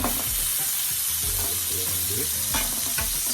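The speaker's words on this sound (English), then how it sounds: "I'll get right back to you when my burgers are finished on the grill." Jerk burger patties sizzle steadily on a grill, a dense continuous frying hiss with a few brief clicks and scrapes near the end, close and loud, with no talking.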